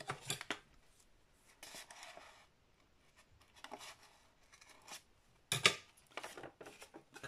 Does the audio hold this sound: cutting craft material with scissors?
yes